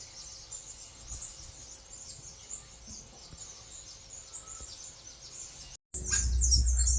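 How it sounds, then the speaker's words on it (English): New Holland honeyeaters calling from a gum tree in front of a house: a busy, continuous chorus of high, bell-like chirps and tweets at moderate distance, with faint insect buzz beneath, ending in a short dropout and then a louder rumbling noise. "all the little bell noises are New Holland honeyeaters"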